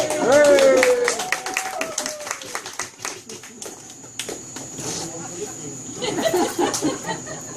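At a magic show in Belize, an audience gives a volunteer scattered, crisp clapping, with a talking voice over the start and intermittent chatter as the claps continue and trail off.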